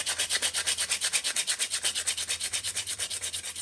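Back-and-forth hand sanding over a wood repair, a close, rhythmic scratching rasp of about eight strokes per second, steady and alone.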